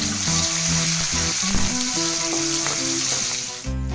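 Green chillies and crushed garlic sizzle steadily in hot oil for tomato chaaru, a continuous close frying hiss with light stirring throughout, ending in a brief clatter.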